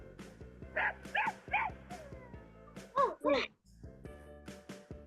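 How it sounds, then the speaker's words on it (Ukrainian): Small high-pitched puppy yips and barks sound in short bursts, a few at a time, with music playing underneath. "А, це цуценя, їх малесеньке дитя."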